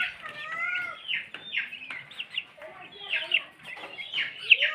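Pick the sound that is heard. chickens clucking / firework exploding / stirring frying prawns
chickens clucking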